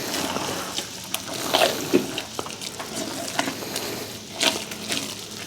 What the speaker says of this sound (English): I always like to try to stir it a little bit.